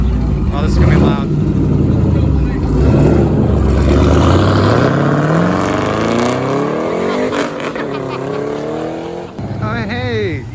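A Shelby GT500 at a Memorial Day car show roars loudly at close range, its engine note climbing and falling in a sustained rev that fills the whole stretch, with excited voices talking and cheering over it.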